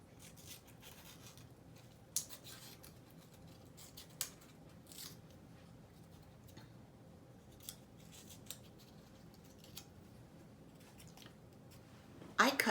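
Scissors cut paper lip shapes, with faint snips spaced a few seconds apart over a low steady background and a louder rustle at the end.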